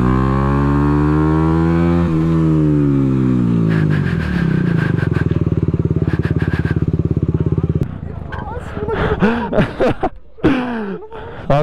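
A motorcycle at a rider meet revs loudly and close by, its engine pitch climbing and holding in a steady drone before cutting to rough, uneven bursts as people talk over it.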